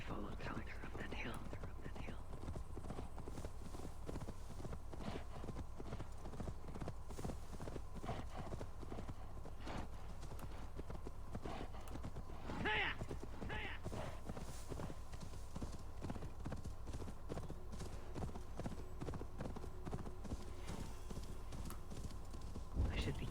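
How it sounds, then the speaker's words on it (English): Horse hooves clop in a steady, continuous rhythm as a mount is ridden in the video game God of War Ragnarok, the trotting going on for a long stretch under intermittent quiet talk and game ambience. "let's grab my horse"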